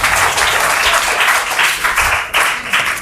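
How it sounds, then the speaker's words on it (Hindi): Loud, dense applause from a studio audience for a young quiz contestant from a government school in a KBC-style quiz show, sustained clapping rolling without pause throughout. "पल्लवी के लिए एक प्यारा सा स्टॉम्बक्स आता हुआ एक जोरदार ताली होनी चाहिए।"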